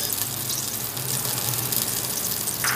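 Chicken oil poured into a pressure cooker, a steady close wash of liquid noise that fills the whole stretch without pause.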